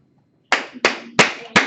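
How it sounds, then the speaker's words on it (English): A small burst of hand claps, four or so distinct claps in a quick, slightly uneven rhythm, close and fairly loud. "We applaud you."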